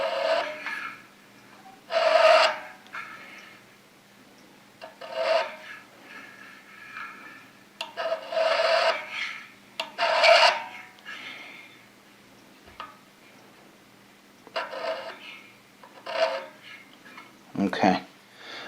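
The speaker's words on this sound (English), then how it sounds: "let me scribe the whole thing because we're going to cut it all off" A scriber draws layout lines across a metal workpiece in a machine shop, making short scratchy strokes that come in bursts with pauses between them, close up, over a low steady hum.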